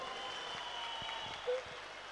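An audience at a business gathering in Bengal claps, a soft, distant patter of applause heard faintly throughout, with a brief tonal blip midway.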